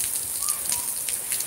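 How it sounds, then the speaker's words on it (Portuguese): Steady rain falling in Cabo Verde, a constant hiss of drops with brief faint splashes, no voices over it. "Acho que Santiago está chove."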